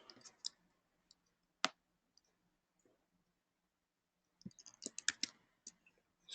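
Keys are tapped on a computer keyboard during a Java programming session. The clicks are faint and come in a few scattered taps, then a quick burst of keystrokes near the end, in a quiet room with no talk.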